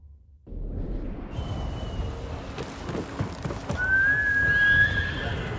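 In Ghost of Tsushima, a horse named Kage gives a clear, loud whinny while hooves clip-clop nearby, set against steady rain and a low rumble of ambient weather.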